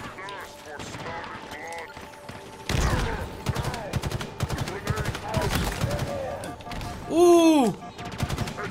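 Rapid bursts of automatic gunfire and single shots crack in Halo Infinite, loud and close, with weapon mechanics and game effects between the volleys while a player briefly exclaims.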